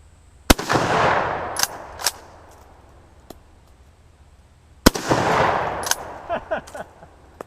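Two loud, sharp gunshots from a Schmidt-Rubin 96/11 straight pull rifle, a few seconds apart, each followed by a long rolling echo across an open outdoor range, with some faint clicks and handling noise between them.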